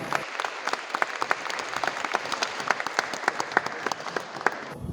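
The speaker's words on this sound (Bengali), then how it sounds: "চার্চে সবাই হাততালি দিয়ে তাদেরকে বরণ করলো" Church guests applaud a newly married couple after the wedding blessing, a moderately distant, even patter of many hands clapping steadily for several seconds before stopping.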